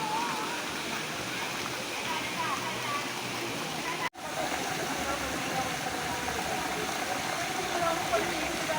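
Broad steady rush of flowing water at a crowded swimming spot with many bathers, continuous and fairly loud throughout, with a brief dropout midway and voices mixed faintly into the wash.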